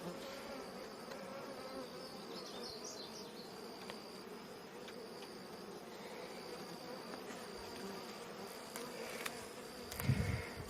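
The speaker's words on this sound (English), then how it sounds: "These bees are all pretty calm, which is good." Calm honey bees drone steadily inside an opened hive during an inspection, a continuous soft buzzing that holds even throughout and swells slightly louder near the end.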